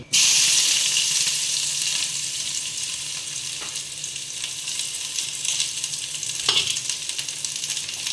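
Onion frying in a pan for a crab curry makes a loud, dense sizzle that starts abruptly. It eases slightly into a steady crackling hiss, with a few brief stirring clicks and no speech.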